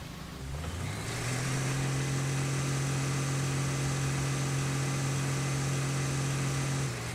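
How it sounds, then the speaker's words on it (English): A heavy work vehicle's engine in the Roadcraft video game runs steadily while driving in reverse, a loud continuous drone with a strong low hum after a brief rise at the start, alone with no talk. "when you drive this thing in reverse, it's like, it really sounds like you're running the engine"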